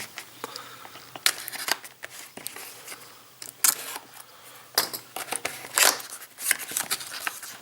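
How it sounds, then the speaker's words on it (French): Packaging for an X-Wing miniatures game being unboxed: irregular crisp rustling, tearing and scraping of cardboard and plastic in bursts, close and fairly loud, with no talking. "donc on va se le déballer tout de suite sans plus attendre"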